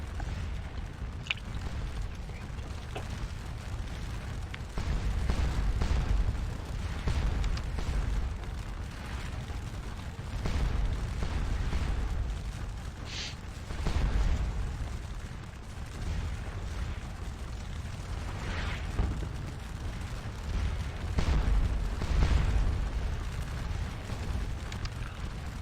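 Napoleonic-era artillery fire in the Scourge of War: Les Cent Jours battle game, with muffled cannon booms rolling at irregular intervals over a constant low rumble of distant battle, fairly quiet throughout.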